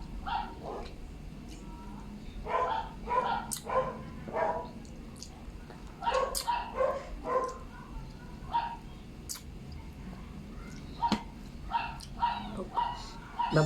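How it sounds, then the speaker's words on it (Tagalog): A small loose dog barks in short, high, yappy bursts, repeated in irregular clusters at close to moderate range against a quiet background. "May nakawala na aso na maliit ah."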